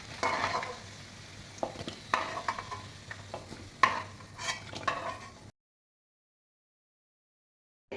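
Potatoes stirred in hot oil in a pan for vetki fish with cauliflower, close scraping stirs and clinks over an active sizzle for about five seconds, then silence.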